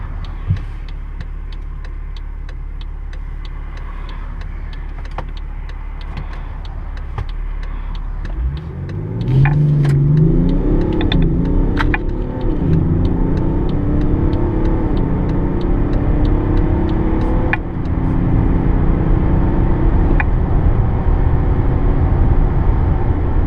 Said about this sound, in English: Outside the city limits, the car accelerates swiftly